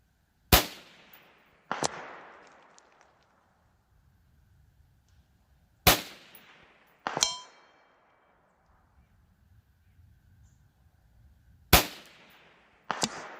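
Rossi RS22M .22 WMR rifle fired at a steel target at long range, 300 to 400 yards: six sharp, loud reports in pairs spaced a few seconds apart, each followed by a decaying echo, with quiet gaps between.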